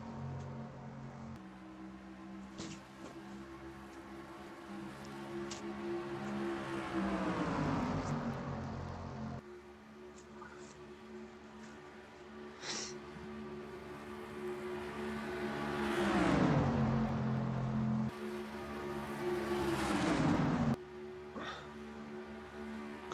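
Race cars circling the Daytona track in a video game, engines droning and rising in pitch as they pass, with several loud pass-bys sweeping through and a steady roar underneath.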